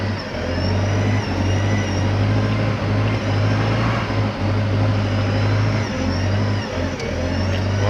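A Hyundai 5-tonne forklift driving forward through a slalom, its engine holding a steady drone close by with small shifts in pitch as it weaves, no voices heard.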